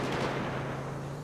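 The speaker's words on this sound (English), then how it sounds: "That's a helicopter shooting at me." Gunfire from a helicopter attacking the player in a retro Liberty City car-chase video game, a short burst of sharp booming shots with a steady low hum beneath, no speech.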